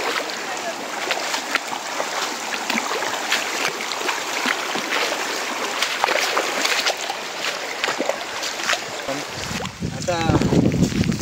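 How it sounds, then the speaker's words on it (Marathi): A shallow forest stream near a waterfall flows with a steady, broad rushing wash, close and continuous, with wind buffeting the microphone and a brief voice near the end. "ओढ्याचं पाणी इथे हळूहळू कमी होतं"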